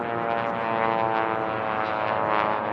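Racing biplanes at the 2018 STIHL National Championship Air Races roar past a pylon, a loud continuous propeller-engine drone with rising and falling swells as several planes pass close by.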